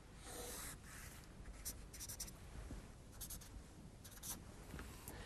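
A pen sketches a quick graph on paper during a maths lesson on equations of straight lines. Quiet, intermittent scratchy strokes are heard alone, with short bursts between soft pauses.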